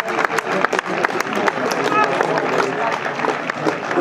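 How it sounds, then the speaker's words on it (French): A stadium crowd claps steadily as a football player leaves the pitch during a substitution at an Etoile FC versus US Boulogne match, a moderate patter of applause under an announcer's voice. "Sortie sous les applaudissements du numéro 9,"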